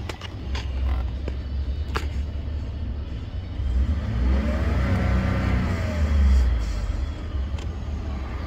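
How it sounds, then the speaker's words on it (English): A Ford F150 EcoBoost engine revving with the hood open, a steady rumbling idle that swells into a rising rev and then settles, with a few faint clicks and a soft turbo blow-off hiss, no talking. "you can hear the blow off a little bit"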